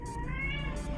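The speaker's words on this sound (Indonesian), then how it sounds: "Itu kucing gua kenapa ya?" Cat in the Roblox game Daycare The Story gives a single drawn-out meow, close and clear, filling the whole moment with no voices.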